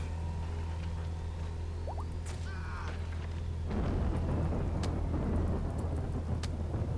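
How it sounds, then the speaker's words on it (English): Video game flash storm with rain and thunder. A low steady rumble sits under a faint hiss that swells into a denser, louder rain-like wash partway through, with a few faint chirps earlier. "So we just got rain, but a flash storm will turn the rain off."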